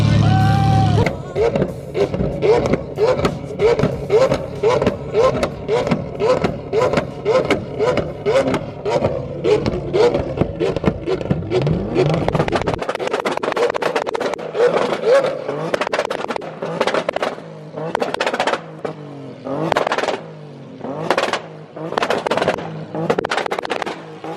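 A BMW E30 and a Lamborghini Aventador trade revs in a loud battle. Sharp throttle blips rise and fall in quick repeated bursts, first layered over a lower drone, then as separate punchy revs with gaps between them.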